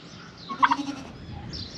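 Turkeys on a goat farm give a brief, loud gobble in the middle of the clip against low barnyard background noise.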